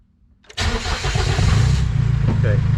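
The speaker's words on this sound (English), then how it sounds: "So at least make sure the Jeep fires back up" Cummins R2.8 turbo diesel in a Jeep Wrangler TJ cranks and catches after a short silence, then settles into a loud, steady mid-pitched idle close by. A voice is heard faintly under the engine.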